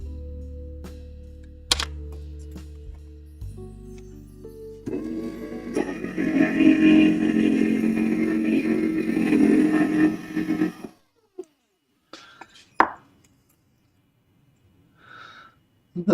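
A stained glass grinder spins up and grinds glass for about five seconds, a gritty whirring rasp over a motor hum, framed by quieter machine sounds, clicks and scattered handling noises.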